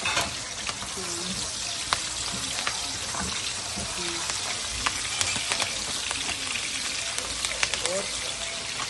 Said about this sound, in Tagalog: Okay, manggigisa po tayo. Unahin po natin yung sibuyas.